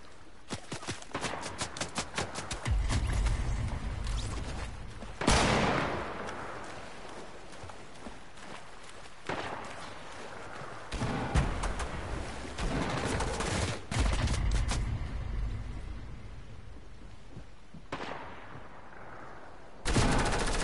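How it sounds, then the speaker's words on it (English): Scattered gunfire in a Fortnite match, with bursts and single shots coming at irregular intervals, some loud and close and others more distant, across a busy game soundscape. "people are shooting at me"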